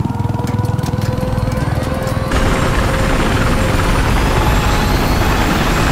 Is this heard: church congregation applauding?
no